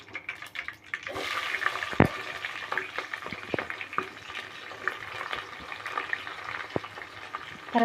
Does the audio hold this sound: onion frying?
yes